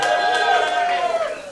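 A comedy club audience whoops and yells in a sustained, loud burst of cheering and shouting that tapers slightly toward the end.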